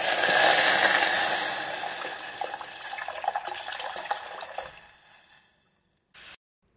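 Tap water runs into a sink while chopped cashews are rinsed, a loud splashing rush that gradually thins into patter and drips, then stops, followed by a short burst of noise.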